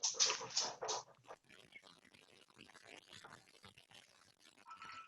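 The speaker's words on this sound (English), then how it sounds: "Oh, there's another dog." A dog whimpers in several high, thin whines near the start. Quieter household noises and soft talk follow.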